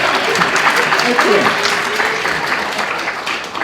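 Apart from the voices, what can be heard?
audience applause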